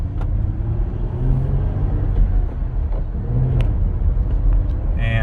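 A Jeep Gladiator Mojave with manual transmission and a Pedal Commander throttle controller in City mode drives slowly through a residential subdivision, its engine a steady close low rumble with slight swells, no talking.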